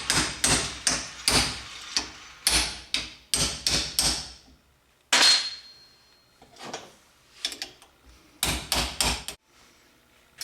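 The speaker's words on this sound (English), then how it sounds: "you're just going to have to pound the pin out" A hammer pounding the hinge pin out of a Camaro door hinge: loud, sharp metallic blows in quick clustered bursts, separated by pauses and a few lighter taps.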